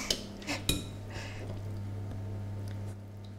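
Ingredients for Creole crab balls are mixed in a bowl, with a few sharp clinks of a utensil against the bowl at the start and then quieter scraping and stirring over a low steady hum.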